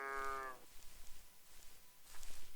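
A single cow lows in the game Minetest, a short harmonic moo lasting about half a second, followed by faint background noise.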